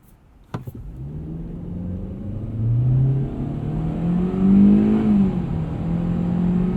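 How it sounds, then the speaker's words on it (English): A 2020 Hyundai Elantra Limited with a CVT, in sport mode with traction control off, accelerating hard from a standstill in a 0-60 run. A click comes first, then a close, loud engine drone that rises and swells steadily. "let's do a little 0 to 60 test"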